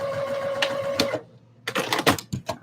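A sewing machine bastes a flounce onto fabric with a humming, rapid stitching run. It pauses briefly, then restarts in a few short, uneven bursts, close and fairly loud.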